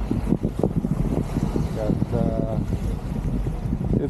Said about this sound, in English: It's a little bit windy.